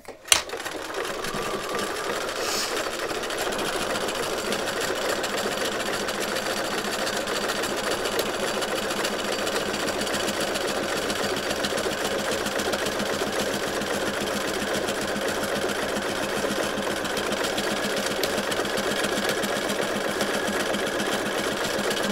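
A sewing machine runs continuously, stitching an appliqué patch down onto background fabric in a circle. A steady, fast mechanical whir and needle clatter starts with a brief thump and carries on unbroken, close and even.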